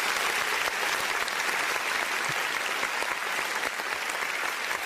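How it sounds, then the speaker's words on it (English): An audience on a sports talk show applauds a segment champion with loud, continuous clapping that fills the room at an even level throughout. "can we get one more applause?"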